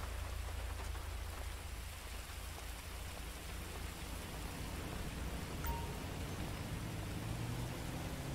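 Steady rain falls in the video game GTA 5, a soft, even hiss of drops on surfaces throughout with no talking.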